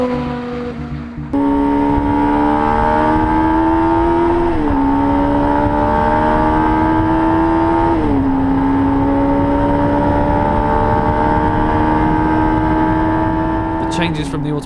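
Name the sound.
Jaguar C-X75 hybrid supercar accelerating at speed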